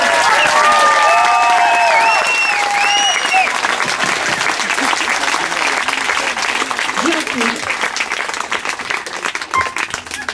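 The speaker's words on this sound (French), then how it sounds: "Un tournée d'applaudissements, s'il vous plaît." Loud, dense audience applause fills a hall after a student vocal workshop performance at a community cultural centre, sustained and steady throughout with voices and a few whoops rising above it.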